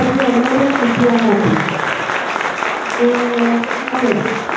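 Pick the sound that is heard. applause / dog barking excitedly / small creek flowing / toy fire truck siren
applause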